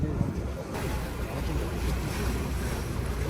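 Strong wind roars across the microphone with waves surging and sloshing beside a cruise ship in the Greek islands, a steady loud rush that fills the whole stretch with no pause.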